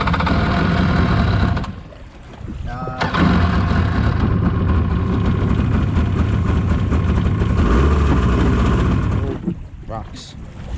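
A Waverunner engine runs loud and close through most of the clip with a rough, blowing exhaust from a leaking, broken muffler, dipping briefly before and near the end as voices talk over it.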